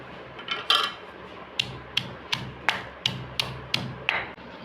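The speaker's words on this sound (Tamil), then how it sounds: "இப்போ பூண்டு போட்டு இடிச்சுக்கலாம். இஞ்சியை போட்டுக்கலாம்." Stone mortar pounding small onion, garlic and ginger for a Tamil mutton kuzhambu, a steady series of about nine sharp, fairly close thuds and knocks at an even rhythm with no talking.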